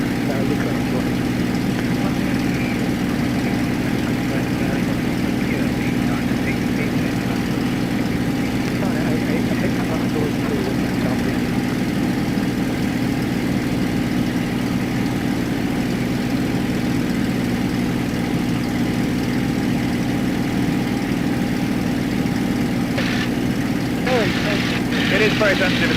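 A light aeroplane engine drones steadily in flight, loud and constant throughout, with a brief clicking near the end.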